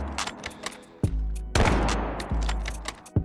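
Gunfire in the mobile shooter Delta Force Mobile: several loud, sharp shots with bursts of rapid fire at irregular intervals, each followed by a ringing tail, with no talking over them.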